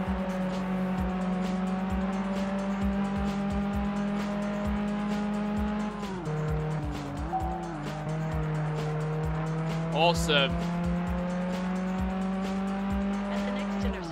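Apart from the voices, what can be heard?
racing car driving in Test Drive Unlimited video game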